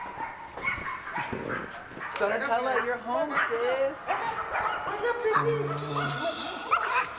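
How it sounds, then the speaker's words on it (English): Puppies and small dogs yip, whimper and bark excitedly in rapid bursts at close range while people talk and exclaim over them. "Oh, look at those dogs."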